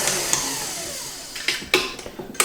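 An electric whisk beating cream in a bowl for a banoffee pie, a steady high whir with scraping clicks and knocks against the bowl, close and fairly quiet.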